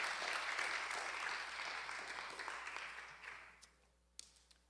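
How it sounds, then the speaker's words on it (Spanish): Applause from a congregation at a religious gathering, a dense wash of clapping that holds steady for a few seconds, then fades away, leaving a couple of isolated claps. "El aplauso a la gloria de Dios"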